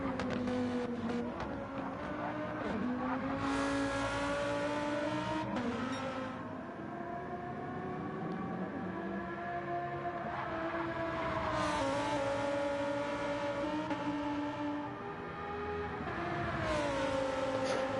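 IMSA race cars, including a Lamborghini Huracan, lap the Nurburgring with a continuous high engine whine that rises and falls through gear changes, steady and fairly loud, with no voices.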